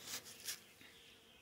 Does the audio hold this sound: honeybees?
yes